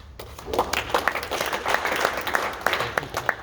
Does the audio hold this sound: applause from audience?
yes